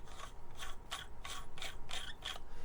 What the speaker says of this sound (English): then we're going to put the end cap back on.